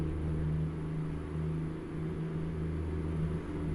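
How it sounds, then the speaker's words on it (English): A truck engine in the American Truck Simulator video game drones steadily at a low, even pitch, a continuous cruising rumble with no talking over it. "I do think we found the engine for our truck here"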